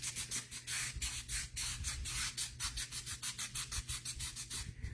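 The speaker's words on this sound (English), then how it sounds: "now I'll do my inside and then we are done sanding" Sandpaper rubs in quick, rhythmic back-and-forth strokes on a DIY Christmas ornament, close and crisp, with regular scratchy bursts and no talking.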